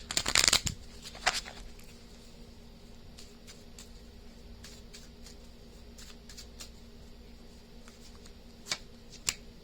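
A deck of cards shuffled during an astrology tarot reading: a couple of brisk riffling bursts near the start, then quiet with a few faint scattered clicks.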